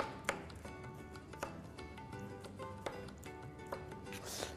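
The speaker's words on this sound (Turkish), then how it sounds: "Şöyle domatesimizi de ince ince doğrayalım." Tomatoes being finely chopped with a knife on a board, a series of crisp, irregular taps spaced around a second apart, fairly quiet, over faint kitchen background.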